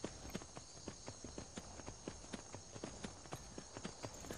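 Horse hooves clip-clop at a steady trotting rhythm in the video game Skyrim, a run of evenly spaced, fairly faint hoof strikes over a soft background hiss, with no talking.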